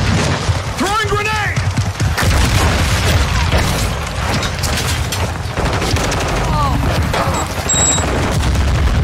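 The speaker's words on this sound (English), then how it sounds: "Throwing grenade!" A grenade blast booms amid continuous gunfire and battle noise in Call of Duty Modern Warfare II, with loud shots and overlapping voices shouting callouts throughout.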